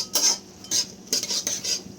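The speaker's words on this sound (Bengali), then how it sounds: "আমরা ভালো করে সব কিছু মিক্স করে নেব।" A metal spoon scrapes and clinks against a pan in several short bursts while cumin seeds and chopped onion are stirred together for a mushroom masala, with no talking.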